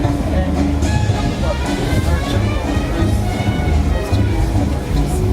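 The Disneyland Railroad train rumbles steadily along the rails, loud and continuous, with faint rhythmic clatter and indistinct voices underneath.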